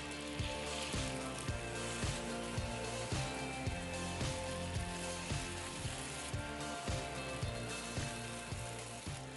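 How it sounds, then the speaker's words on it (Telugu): Appalu shallow-fry in ghee with a steady, busy sizzle and crackle, accompanied by a regular pulsing mechanical ticking underneath, moderately quiet and continuous without speech. "మనం షాలో ఫ్రై చేసుకోవడానికి కొంచెం నెయ్యి వాడుకున్నాం"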